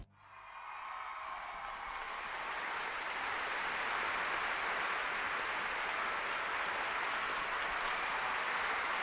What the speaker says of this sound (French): Prête l'oreille à la foule qui t'acclame!